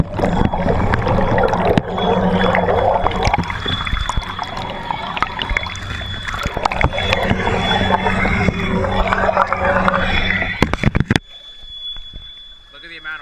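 Brushless ROV thruster running on an 11.1 V LiPo with current limiting removed, churning and splashing water in a test tank, a steady turbulent wash with someone talking over it before it cuts off near the end.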